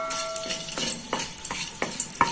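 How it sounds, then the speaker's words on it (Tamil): Whole spices fry in oil in a kadai: black pepper, bay leaf, star anise, cinnamon and cloves. Rhythmic spoon scrapes against the pan land about every half second over a soft sizzle. "சேர்த்துட்டு அந்த எண்ணெயில் நல்லா அப்படியே வறுத்துக்கலாம்."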